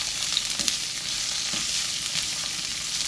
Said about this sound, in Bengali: একদম সুন্দর করে এটাকে তেলের মধ্যে ভেজে নিতে হবে